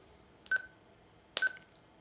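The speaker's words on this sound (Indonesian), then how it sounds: "Beep, ya ini suara beep" Two short electronic key beeps from a Retevis RT23 crossband handheld radio as buttons are pressed, clear, close and evenly spaced about a second apart in a quiet room.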